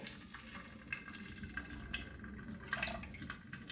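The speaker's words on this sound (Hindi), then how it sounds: "तो अब घी में हम डाल देंगे पानी।" Water poured into hot ghee in a cooking pot while preparing rice, a soft trickling and sizzling splash with small bubbling pops, fairly quiet and close.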